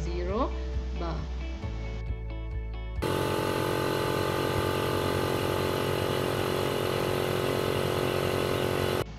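A laboratory air compressor starts up to pressurise a gas tank for an adiabatic exponent experiment, its steady loud motor hum and broadband rush running continuously after a brief start, with faint voice and clicks before it kicks in.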